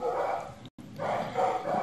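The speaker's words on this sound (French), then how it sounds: "C'est pénible les chiens des voisins" Neighbours' dogs bark and yap outdoors at a distance, a busy repeated barking that continues on both sides of a brief dropout.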